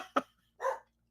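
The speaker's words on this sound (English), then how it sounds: "barking at something clanking down the road" A dog barks twice in short separate bursts, moderately close, while something clanks somewhere down the road, with quiet between the barks.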